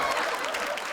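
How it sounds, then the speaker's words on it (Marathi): A short burst of audience applause at a live Marathi comedy stage show, with dense, steady clapping from a crowd. "एकदा जोरदार टाळ्या माझ्यासाठी झाल्या पाहिजे"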